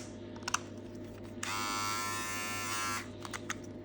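A rechargeable 3-in-1 electric hair trimmer switches on and runs with a steady, close, high-pitched buzz for about a second and a half before cutting off.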